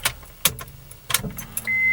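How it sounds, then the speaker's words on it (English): Keys for a 1996 Honda Accord jangle in a few short, sharp bursts inside the car, followed by a steady electronic tone; no one speaks. "I'm going to get my keys here and we will take a look."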